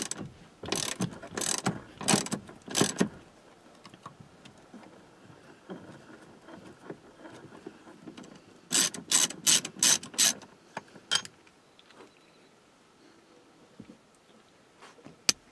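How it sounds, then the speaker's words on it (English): A socket ratchet clicks out the steering wheel center bolt on a 2004-2008 Dodge Ram, with two clusters of quick, sharp ratcheting strokes, four or five each, separated by quieter fiddling. "Use a 13mm socket to get this bolt out."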